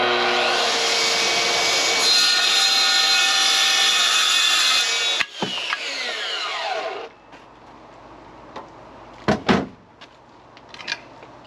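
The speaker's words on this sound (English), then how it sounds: "you got to do it with the track saw." A track saw cuts through an aluminum iMac, a loud, close, sustained high-pitched whine for about five seconds that spins down, followed by quieter clunks and a few sharp knocks.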